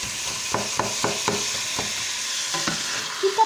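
Minced meat sizzles steadily in a pan as it browns, with a string of short scraping strokes from a utensil stirring it across a few seconds.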